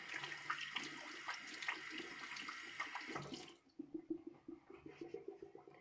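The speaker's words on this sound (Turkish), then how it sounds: "Şimdi ellerimi yıkayacağım." Water runs steadily from a tap during handwashing, a broad hiss that stops abruptly partway through, leaving faint dripping and small splashing sounds in the basin.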